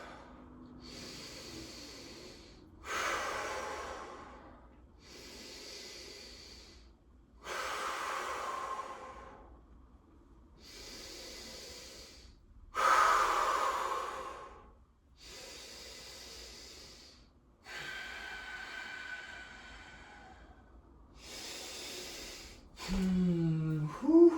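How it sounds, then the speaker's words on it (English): Slow, deliberate yoga breaths held in a pose, each long inhale and exhale rising and falling in a steady cycle of about five breaths, close and airy with soft snorts, no talking. "Let's do 5 breaths."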